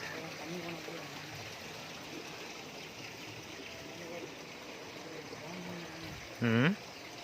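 River water at the Kallanai waterfall rushes steadily over stones, a constant broad wash close by, with a short burst of a voice near the end.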